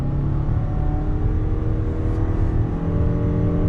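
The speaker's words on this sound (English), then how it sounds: "pulling away, I want to show you the acceleration of the RAV4 on throttle." A 2019 Toyota RAV4 Hybrid compact SUV accelerates under throttle, giving a steady, loud engine drone and whir heard from inside the cabin with no talking.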